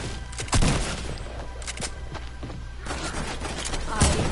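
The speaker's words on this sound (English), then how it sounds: "Infantry rifle, by the way." Infantry rifle shots in Fortnite, a few sharp bursts spaced across the moment, the loudest near the start and end, over a busy game soundscape with a faint voice in the background.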